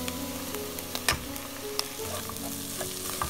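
Onion frying in a pan for shrimp kofta curry sizzles steadily up close, with occasional crackles, pops and light stirring scrapes and no talk.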